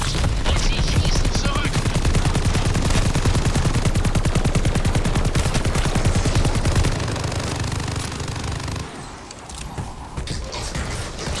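Sustained rapid automatic gunfire fills the zombie mode of the video game Call of Duty: Vanguard, loud and dense for about seven seconds before thinning into scattered shots and a lower, quieter tail.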